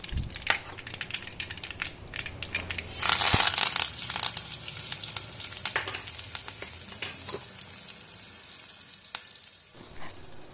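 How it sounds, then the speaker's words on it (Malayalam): Fried mustard seeds with dried red chillies and curry leaves are poured into a boiling pumpkin and green gram curry, making a loud burst of sizzling that settles into steady crackling and bubbling, with no talking. "ഈ കടുക് വറുത്തത് ഒഴിക്കാം"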